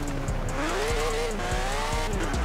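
A 1966 VW Kombi engine in Forza Horizon 4 revs loudly and steadily, its pitch rising and falling through gear changes with faint tire noise, close and continuous with no talking.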